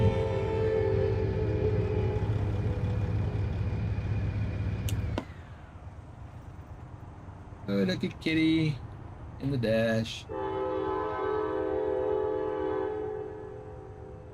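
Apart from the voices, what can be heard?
loud passing train in a video game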